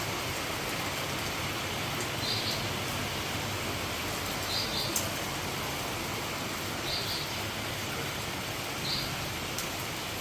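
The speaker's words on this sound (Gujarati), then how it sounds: "વરસાદ ચાલુ થઈ ગયો બોલો." Steady rain falls in a broad, even hiss, with faint bird chirps now and then and no talking.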